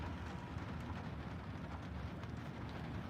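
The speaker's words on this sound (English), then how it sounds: "I'm sitting here in the rain" Rain falling steadily outdoors, a soft continuous hiss of drops at low level with no voices and no pauses.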